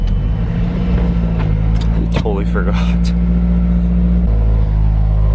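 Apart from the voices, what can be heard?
Mazdaspeed 3 car engine and exhaust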